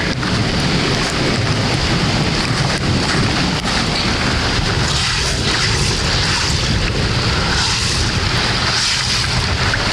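Heavy rain pours steadily for the whole stretch, a dense constant hiss with low rumbling thunder rolling underneath, loud and close with no voices.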